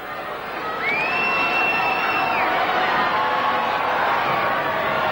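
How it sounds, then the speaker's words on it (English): A large crowd at a 1987 Tasmanian football grand final roars its approval, a sustained loud cheer swelling after a kick, with a faint whistle tone and a commentator speaking over it. "The crowd again shouting their approval."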